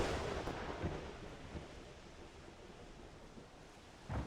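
Stormy weather in an MMO game: a continuous low rumble of thunder and rain, with a few heavier rolls near the start and a loud swell at the end, and no speech.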